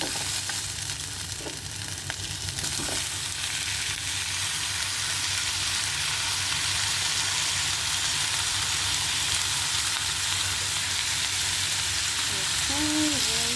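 Chicken fries in a pan with bell pepper and onion, giving a steady, close sizzle that continues throughout, with occasional faint stirring and a brief voice near the end.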